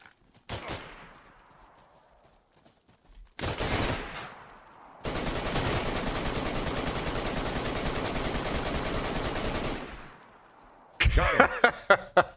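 Rifle fire in DayZ on the Chernarus map: two single loud shots with long echoing tails, then a sustained rapid burst of gunfire lasting several seconds, then more sharp shots close by.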